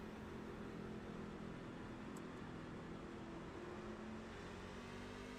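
A race truck engine drones at steady high revs in iRacing at Chicagoland Speedway, a continuous buzzing hum that stays at an even moderate level with no talking.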